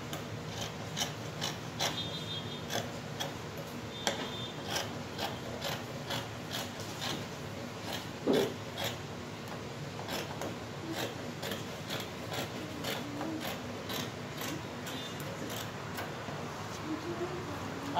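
Scissors cut fabric along a sloped neckline for an off-shoulder cowl kaftan, producing a steady series of soft, close snipping clicks in a regular rhythm at low volume.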